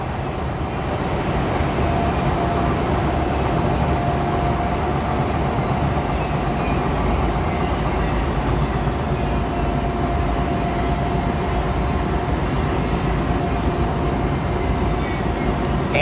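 A long freight train rolls past with a mid-train DPU locomotive, giving a steady, loud, continuous rumble and rail roar that holds evenly throughout, with no talking.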